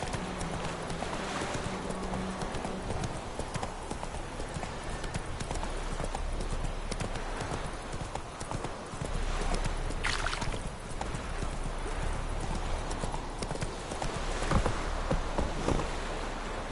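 Horse hooves clip-clop at a steady trot through most of the stretch in The Witcher 3, a continuous rhythmic beat under game ambience, with a louder burst near the middle.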